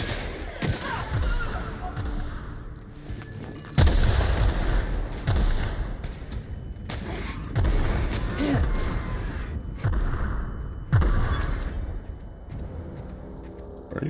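Gunfire in The Outer Worlds lands as repeated heavy booming shots and thuds spread across the span, each followed by a rumbling tail, with voices talking in between.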